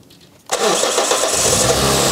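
A car engine with 310,000 km on it, a worn timing chain and worn hydraulic lifters cranks and catches after half a second of quiet. It then runs loud and close with a rough, rattly idle.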